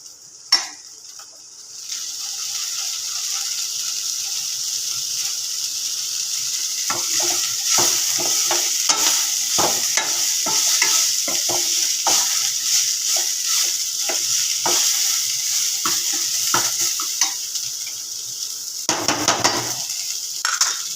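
Drumstick flowers sautéing for a poriyal in a hot pan give a loud, continuous sizzle, broken by repeated scrapes and taps of a spatula stirring, close up and with no voices.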